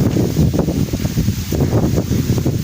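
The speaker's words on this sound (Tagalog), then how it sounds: "Mahangin." Gusty wind buffeting an outdoor microphone near the sea, low rumbling bursts that swell and ease in uneven waves, fairly loud and with no talk.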